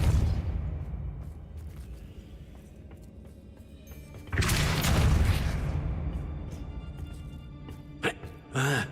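A Depulso spell blast from the video game Hogwarts Legacy bursts out loud and broadband in the middle of the clip, then trails off, with softer game ambience and a few sharp clicks around it.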